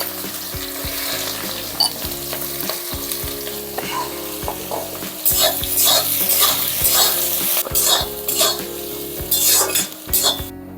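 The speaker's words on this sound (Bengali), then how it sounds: "আমি পেঁয়াজ বেরেস্তাটা করার জন্য পেঁয়াজটা দিয়ে দিলাম।" Onions frying in white oil and ghee for beresta, a close steady sizzle with frequent metallic clinks and scrapes of a spatula against the pan, growing busier and louder in the second half, no speech.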